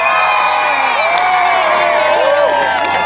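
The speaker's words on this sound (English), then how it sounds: "Please give a warm round of applause" A loud outdoor crowd at a holiday train concert cheers and whoops, with overlapping shouts rising over a continuous wash of noise.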